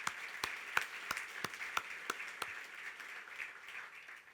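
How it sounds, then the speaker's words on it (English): A press conference audience applauds, with scattered, sparse claps that come across as fairly faint and distant and fade out over a few seconds. "they deserve a round of applause"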